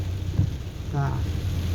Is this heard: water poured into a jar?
no